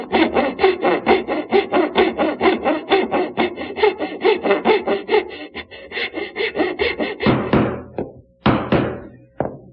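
A hand saw cuts dovetail tails in a wooden side piece for a French side table, with rapid, even rasping strokes close up and loud, then a few slower final strokes and pauses near the end.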